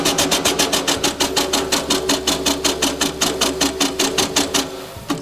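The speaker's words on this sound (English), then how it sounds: "with a steam engine like this, although it's only 2 cylinders, you have the same power impulses as you have on a V8" Two-cylinder steam engine running on compressed air at 125 psi, chuffing in fast, steady exhaust beats about five per second, close and loud, with a constant low hum beneath and no talk.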